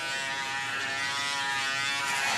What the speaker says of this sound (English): I shave my legs because in my long distance swims that I do, it gives me a little bit better time